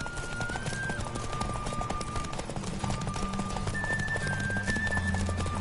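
Horse galloping in The Witcher 3, rapid hoofbeats drumming steadily over a continuous game music bed with tonal lines, no pauses in the stride.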